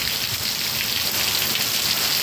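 Heavy rain pouring down in Itabaiana, Paraíba, a dense, steady hiss of drops striking surfaces close by, loud and unbroken with no talk.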